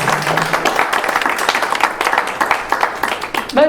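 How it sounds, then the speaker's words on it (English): Applause and clapping from a live audience at a comedy show in a VFW hall, dense and steady for several seconds, close and fairly loud, fading slightly at the end. "Give yourselves a hand."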